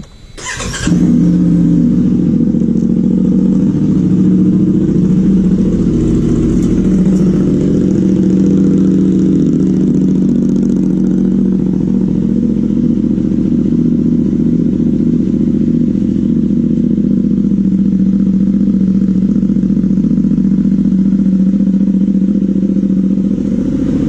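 A vehicle engine runs steadily and loud for a short spin, its low mid-range drone holding even from start to finish with no talk over it.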